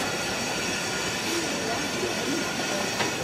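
The No. 6 Climax steam locomotive on the White Mountains Central Railroad, heard from the cab as a continuous loud rumble and hiss of the running engine and rolling cars, with faint wheel squeal and no pauses.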